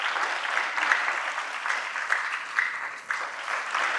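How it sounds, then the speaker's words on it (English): An audience at a national essay competition workshop in Cape Coast claps continuously, a fairly even, slightly distant wash of hand claps that holds steady throughout with small swells. "you keep clapping till she gets here"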